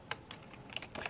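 Someone types a title on a computer keyboard, producing a short run of faint, quick key clicks in a quiet room.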